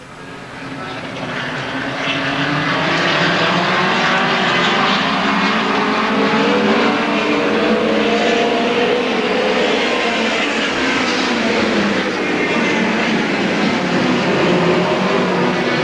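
Midget race cars at the 1990 Belleville Midget Nationals roaring back to speed on a restart, a dense, loud engine drone that swells in over the first seconds and holds steady, with a commentator's voice faintly underneath.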